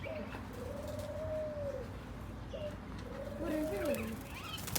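Pigeons coo at a village-style resort in Oman, with several soft, drawn-out coos from close by, some chirps, and people talking quietly underneath.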